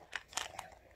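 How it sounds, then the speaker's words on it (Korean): Someone bites into a crispy-coated, sweet food, giving a few quick, quiet crunches within a second, close up and without talk. "바삭한 소리 보여요? 이거 진짜 겉은 바삭바삭한데"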